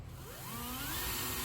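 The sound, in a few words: power drill drilling a pilot hole into trailer floor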